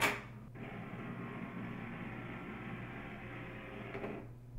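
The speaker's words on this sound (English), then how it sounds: "Wait about 10 minutes for your printer to stop making noises before you proceed." An HP DeskJet printer whirring through its reset cycle, a steady mechanical hum starting with a brief clatter and ending with a small click before it cuts off, alone and close.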